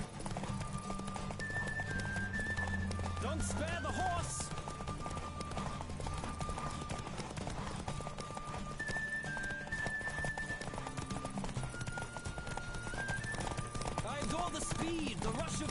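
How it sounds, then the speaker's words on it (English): A horse gallops in The Witcher 3, rapid rhythmic hoofbeats clip-clopping steadily over ground beneath game music and ambient sound, with a brief neigh. "Don't spare the horse."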